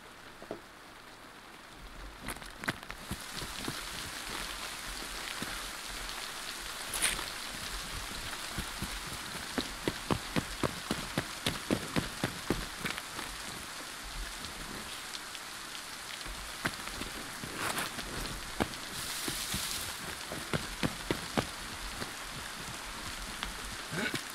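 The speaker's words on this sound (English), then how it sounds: "I don't like the rain because it sounds like people are running around you." Steady rain patters across surfaces in the DayZ video game, a dense continuous hiss broken by frequent sharp droplet ticks and taps, fairly close and even in level throughout with no talking.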